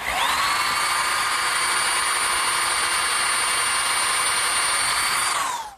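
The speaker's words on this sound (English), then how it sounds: "We're going to have to pre-drill some holes through the bracket for the nails." A power drill pre-drilling nail holes through a metal bracket for a garden swing, one steady high whine that spins up, holds evenly for several seconds, then winds down.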